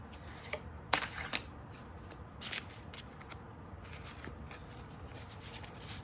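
Tarot cards are shuffled close by in a quiet room, soft riffling and rubbing with a few sharper slaps, steady and faint throughout.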